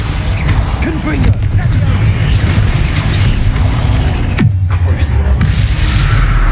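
Confringo fire spells burst in Hogwarts Legacy combat, with booming blasts and a rising whoosh over a dense, continuous wash of battle noise.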